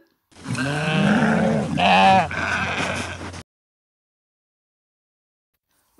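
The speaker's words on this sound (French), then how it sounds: "Qui se cache derrière? Deux agneaux." Two lambs bleat in succession, close and clear, with a wavering, quavering cry lasting a few seconds before falling silent, used as a farm sound effect in a children's story.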